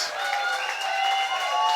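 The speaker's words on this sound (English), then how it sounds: "if you can hear, the home crowd are ecstatic" A home crowd cheers and applauds after Guernsey score in an over-50s walking football match against England, a steady wash of clapping and shouting that stays loud throughout.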